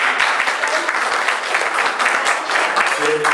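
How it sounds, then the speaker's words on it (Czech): A live audience claps steadily in dense, sustained applause to welcome a guest, with a voice briefly heard near the end. "jestli ho můžete uvítat potleskem."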